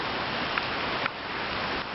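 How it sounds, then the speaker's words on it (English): Extreme rain pours down steadily during a street flood, a dense, even hiss of falling water with a couple of faint clicks, continuous and fairly loud, with no voices. "It's flooded like crazy. Yes, this is extreme rain"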